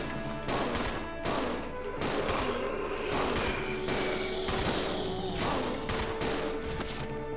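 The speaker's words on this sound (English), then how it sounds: "Gonna shoot like crazy." Rapid, dense gunfire in a video game, shot after shot in quick bursts that carry on almost without pause over cluttered game effects.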